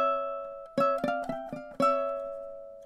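Flamenco rumba-style ukulele, the second part of a duet: a held note, then a quick series of five or six bright plucked attacks in a choppy rhythm, each ringing out, close-miked and unaccompanied.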